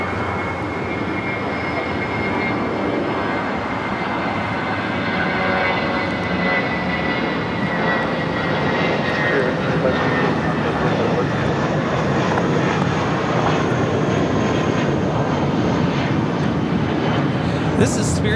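A Spirit Airlines Airbus A320 takes off at LAX with a sustained, broad jet roar that holds steady and slowly swells over many seconds, heard from a distance while people talk.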